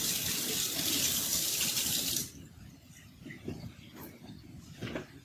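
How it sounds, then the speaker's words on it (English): A paintbrush is rinsed under a running tap for about two seconds, a loud steady gush that then stops. Quieter faint knocks and handling sounds follow. "Just rinse it out in water."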